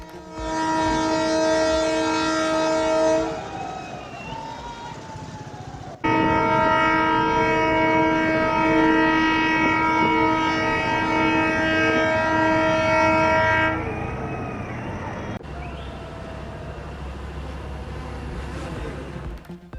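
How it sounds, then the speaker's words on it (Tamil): A train engine makes a test run across the new Pamban sea bridge, with loud sustained horn blasts that stop, start again and then fade under steady rumbling rail noise, with no voices. "ராமேஸ்வரம் பாம்பன் இடையே புதிதாக கட்டி முடிக்கப்பட்டுள்ள மேம்பாலத்தில் ரயில் இன்ஜின் சோதனை ஓட்டம் நிறைவு"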